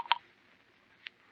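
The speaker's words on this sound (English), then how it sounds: "Hey, Melody, get my lawyer on the phone." Telephone keypad dialing: two short electronic tone bursts, the first a quick double beep and the second about a second later, clear and close against quiet background.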